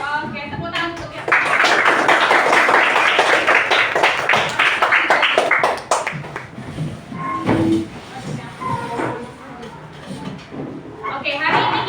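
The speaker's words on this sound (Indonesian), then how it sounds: "Oke, tepuk tangan untuk ya." A classroom of students applauding together: dense, loud clapping for several seconds that thins out into scattered claps, with a teacher's voice speaking before and during the fading applause.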